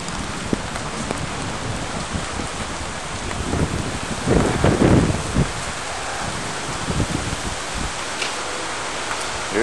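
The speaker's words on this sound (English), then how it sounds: "Storm's coming." Heavy rain storm in Houston, Texas, with a dense, loud wash of downpour hitting surfaces and gusting wind buffeting close by, swelling briefly in the middle; no voices.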